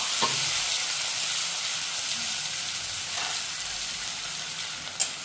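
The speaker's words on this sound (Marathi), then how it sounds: "आपला कांदा तळसतोय" Chopped onion frying in hot oil with a pinch of asafoetida gives a steady, close, even sizzle and hiss throughout, broken only by a couple of faint clicks.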